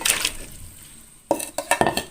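Pieces of pork drop into a cooking pot with a series of soft clattering knocks and clinks, after a brief quiet stretch; close and moderately loud.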